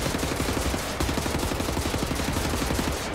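Rapid, sustained gunfire in Wolfenstein: The New Order, a dense run of loud, evenly spaced blasts from a shotgun and other weapons filling the whole stretch with no pauses and no voices.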